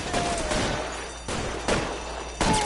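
Machine gun fire rattles through a shootout in the video game L.A. Noire, heavy and dense, with a few louder bursts punching out of the steady barrage.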